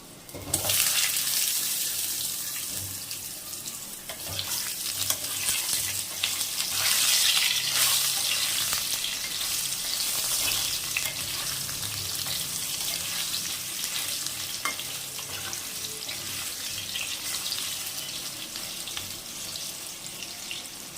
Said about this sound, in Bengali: এবার আমি আলু কটা দিয়ে দেবো